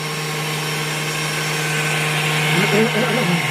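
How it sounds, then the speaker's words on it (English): A kitchen blender runs with a steady motor whine and hum, loud and continuous, while a voice speaks briefly over it toward the end. "I'm new to the blender."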